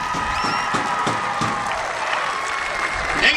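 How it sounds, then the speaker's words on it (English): A high school football crowd applauds the homecoming court at Ankeny, a broad roar of clapping and cheering with a few whistles rising over it. "Ankeny fans, please give a round of applause for your 2024 homecoming court and your king and queen."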